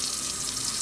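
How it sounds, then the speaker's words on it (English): Tap water runs steadily into a cooking pot, a continuous close hiss and splash with no talking. "I'm just gonna go ahead and fill it with some water"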